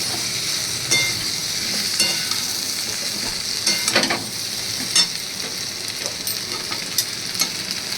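Fried elephant foot yam pieces stirred into a spice paste of onion and garlic sizzling in hot oil, with a steady crackling fry and intermittent scraping stir strokes, close and without talk.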